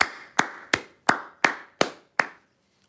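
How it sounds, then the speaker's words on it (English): Hands clapping seven times in an even, deliberate rhythm, each sharp, close and loud clap ringing briefly before the next, with no talk around them. "I'm giving you a clapping ovation"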